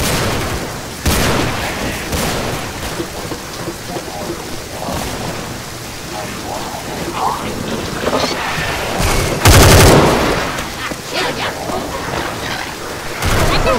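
Gunfire in the Left 4 Dead 2 Hard Rain level cracks in scattered bursts through heavy rain and rumbling thunder, with one loud sharp volley near the end and game voices talking at times.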